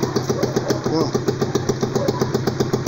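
A homemade tractor engine idles after a carburetor cleaning, giving a loud, close, steady rhythmic thumping at a slow, even pace, with someone briefly speaking over it.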